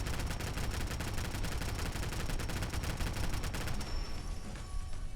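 Continuous rapid gunfire from a modded AMP10K 10mm submachine gun in Fallout 4, loud and close, hammering steadily for nearly four seconds before tapering off.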